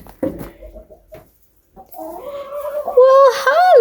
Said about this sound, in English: let's go see what chickies are doing